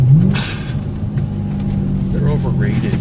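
BMW 650i with its mufflers removed revs loudly and close up, a raw, throaty engine drone with a rising blip as it downshifts, under continuous talk.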